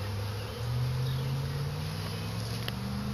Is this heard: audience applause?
no